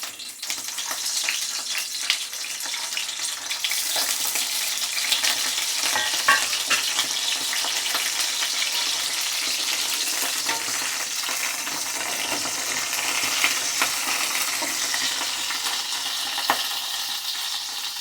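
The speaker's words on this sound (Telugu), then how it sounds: "నూనె బాగా వేడెక్కిందండి. దీనిలోకి వంకాయలు వేసుకొని ఫ్రై చేద్దాం" Brinjals (eggplants) fry in hot oil, giving a continuous loud sizzle that holds steady throughout, with occasional crackles and faint stirring clatter.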